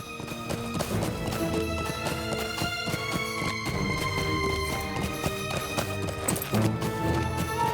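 Rapid, rhythmic hoofbeats clip-clop steadily as a horse gallops in Lord of the Rings Online, backed by layered game music.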